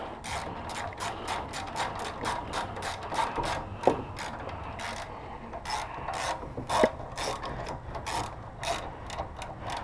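A ratchet clicking in rapid, regular strokes while tightening a boost hose clamp on a 2014 Subaru WRX, close and continuous, with a couple of sharper knocks against the part.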